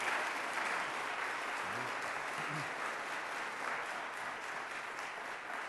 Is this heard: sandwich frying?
no